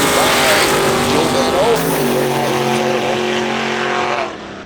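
Drag race between a Malibu and a Corvette on a street-class strip: loud engine roar with rising and falling revs, a commentator talking over the noise throughout, fading slightly near the end.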